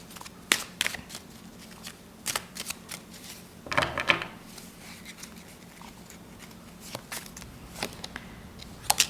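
Tarot cards being shuffled by hand, a series of crisp riffling bursts with a longer flurry near the middle, close and fairly quiet with no talking.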